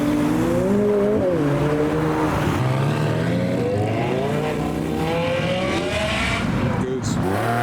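Race cars, with a McLaren F1 and an Aston Martin GT12 mentioned nearby, roar loudly around a track with rising and falling engine notes and revving, under an excited commentator's voice throughout.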